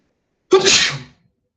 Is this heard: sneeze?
yes